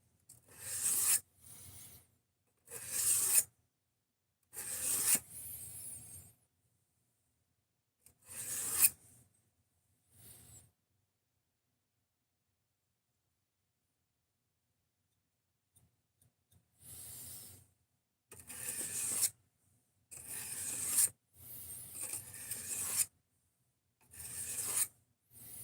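A knife blade is stroked to break off the burr in short bursts of rasping, several strokes at a time with pauses, then a long silence before more rubbing strokes resume up close.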